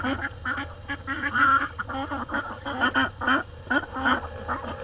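Egg-laying ducks in a muddy, straw-covered pen quack in a busy, overlapping chorus, several birds calling in short repeated bursts close by, loud and continuous.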